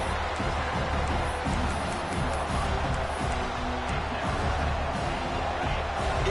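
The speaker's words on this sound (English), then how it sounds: "this crowd is fired up. Listen to this noise here" A stadium crowd at a USC football game roars in a dense, continuous wall of cheering noise that stays loud throughout.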